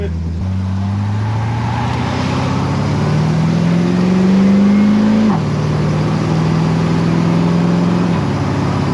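A full-size Ford hot rod cruising with a loud, steady engine drone that climbs in pitch as it accelerates, then drops after a gear change and holds steady, heard from inside the car while people talk over it.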